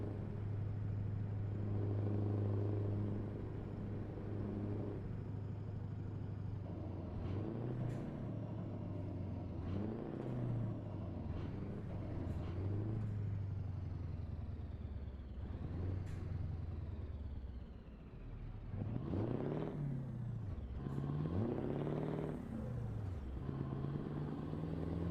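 Scania T V8 truck engine in Euro Truck Simulator 2, a steady low rumble running throughout with rising and falling revs as the truck shifts gears, plus brief hissy air-brake bursts near the end.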